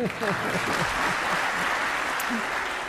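Applause rolls through the Australian Parliament chamber, a steady dense clapping that holds throughout while a voice speaks over it.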